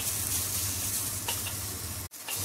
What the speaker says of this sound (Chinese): 呢段时间将所有嘢炒香佢先。